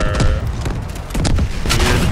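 Heavy booms and blasts from a tank hit in the Delta Force video game, a rapid cluster of loud, close explosive thuds and crackles within about two seconds.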